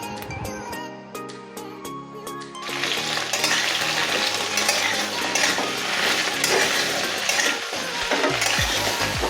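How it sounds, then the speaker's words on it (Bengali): Okra frying in rice bran oil: a quiet clatter of utensils, then a loud, dense hiss of oil bursts in as the pieces hit the pan and sizzles continuously, with scraping and stirring on top. "প্রথমে ভেন্ডিগুলো ভেজে নেব"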